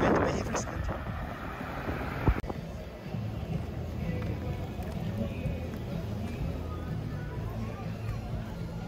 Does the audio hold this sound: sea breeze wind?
yes